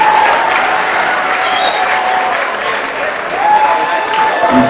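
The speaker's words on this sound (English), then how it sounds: "Give her a big round of applause." A theater audience applauds at the TelCell Breakthrough Finals 2015, a dense, even wash of clapping with crowd murmur and a few faint whoops mixed in.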